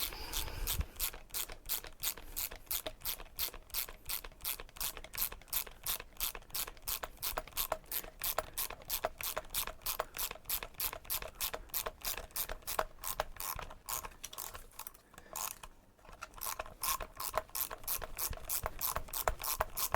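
Ratchet on a Serpent s426 Outlaw RC car clicking in a fast, even series of close, crisp ticks that run continuously, with a brief slowdown near the end.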